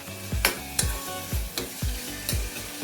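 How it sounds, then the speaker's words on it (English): A spoon scrapes and stirs chopped onions and tomatoes in a pan, five or six distinct strokes at a steady rhythm over a continuous background sizzle, close and clear with no talking. "after adding the veggies we need to mix it"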